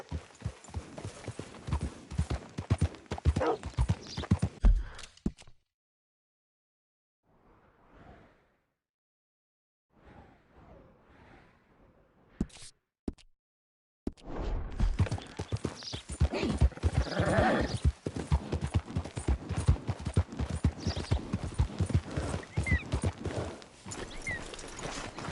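Horse hooves clip-clopping in the Red Dead Redemption 2 video game, a steady rhythmic trot heard close, broken by a quiet stretch midway before the hoofbeats resume at full pace.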